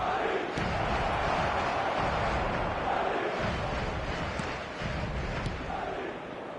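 Stadium crowd noise from a football video game, a steady broad roar of many voices holding at an even level throughout with faint swells.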